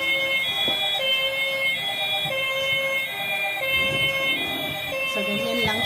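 A toy fire truck siren wails continuously in a steady electronic warble, close and loud, with a brief voice near the end.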